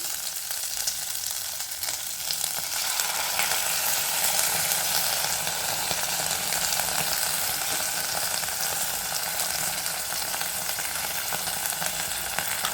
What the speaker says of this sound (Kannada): ಇಷ್ಟಿಷ್ಟೇ ಮೊಸರು ಹಾಕೊಂಡು ಹುರಿಬೇಕು